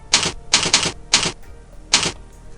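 Keys clack on a computer keyboard while typing into an Excel spreadsheet cell, five crisp close bursts with short pauses between them, the second a quick double stroke.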